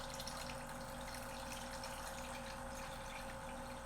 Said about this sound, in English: In the bottom of the pot, I'm going to add some water.